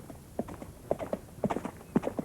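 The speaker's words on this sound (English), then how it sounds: "Then the witch jumped onto the horse's back and galloped away." Horse hooves clip-clop at a gallop in a fairy-tale witch story, a string of quick uneven hoofbeat clusters that sound fairly close and stand alone without speech.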